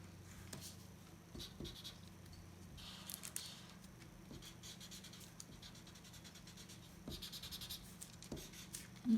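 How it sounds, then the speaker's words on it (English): A marker scratching and scribbling over the back of tracing paper for a room vignette sketch, faint strokes coming in quick irregular bursts with soft pauses in a quiet room. "you can go back in and add some detail to the back of the tracing paper"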